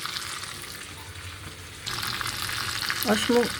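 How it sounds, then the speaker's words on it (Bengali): Vegetables sizzle in a pan with turmeric, salt and spices, a steady frying hiss that grows louder and busier partway through as more goes in and gets stirred, with a brief utensil clink near the end; no talk. "আর এই সবজিগুলোকে আমি একটু হলুদ নুন দিয়ে ভেজে নেব।"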